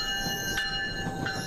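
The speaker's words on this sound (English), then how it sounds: "The sweet sound of commuter rail trains running at South Station." Commuter rail trains run at South Station in Boston, giving a steady rumble with high ringing metallic tones and short squealing bursts of wheels on track, heard close and without voices.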